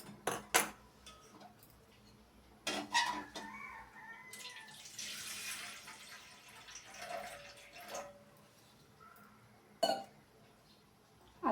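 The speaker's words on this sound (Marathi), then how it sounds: "एका पातेल्यात मी पाणी ठेवते।" A pot is set down and filled with water in a home kitchen while preparing steamed rice-flour ladoo. Sharp metallic clanks come at intervals around a stretch of running, splashing water, all close and fairly quiet.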